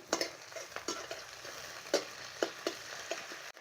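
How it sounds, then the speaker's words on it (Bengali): Garlic and ginger paste frying with onions in a pan for croaker fish curry, with a steady sizzle broken by repeated scraping stirs of a utensil, close and alone. "সামান্য একটু রসুন বাটা আর আদা বাটা একই সঙ্গে দিয়ে দিলাম"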